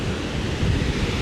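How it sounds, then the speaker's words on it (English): A waterfall on the Isle of Skye swollen after heavy autumn rain roars as a dense, steady rush of water, broadband and constant, with some wind buffeting on the microphone. "That's the main waterfall"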